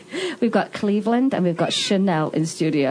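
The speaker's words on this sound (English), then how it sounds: "So you can hear the meowing." A Himalayan cat meows in a studio, brief, wavering calls close to the microphone, mostly under continuous talking.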